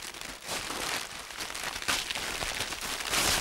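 A paper letter is unfolded as a drama CD sound effect, giving a continuous close crinkling and rustling that swells toward the end, with no voices.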